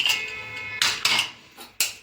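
A pressure cooker is set down on a gas stove in a home kitchen, giving a few sharp metallic clanks and knocks, close and fairly quiet, with no talking.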